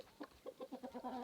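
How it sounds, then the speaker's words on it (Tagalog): Chickens of mixed breeds, including Sussex, Marans and Plymouth Rock, cluck in a steady run of short calls on a South Australian farm, close and moderately loud with no talk. "Ito yung mga manok namin, may red chicken, black chicken,"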